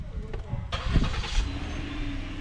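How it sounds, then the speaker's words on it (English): Car engine idling while it warms up before a home oil change, a brief start-up burst settling into a steady low idle, with some handling noise near the start. "I'm letting the car warm up a little bit so the oil can get warm"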